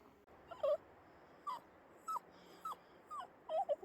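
A dog on an afternoon hike whimpers softly in short, high, nasal whines, about six spaced cries over a few seconds against quiet outdoor background, close to the listener with no talking.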